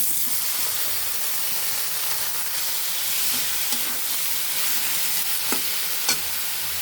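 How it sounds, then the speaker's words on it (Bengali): Flat green beans tossed into lightly fried onions in a village kitchen pan hiss in a strong, continuous sizzle, with stirring scrapes and a few sharp clicks. "এখন আমরা সিমগুলো দিয়ে দিব এর মাঝে।"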